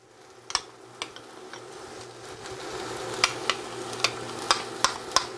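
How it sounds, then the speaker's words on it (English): Cheese sauce being spooned onto cooked chicken in a pan for a high-protein chicken Alfredo, with a soft steady sizzle and a run of light spoon taps and clinks against the cookware. "all I'm going to do is add, spoon on my cheese sauce"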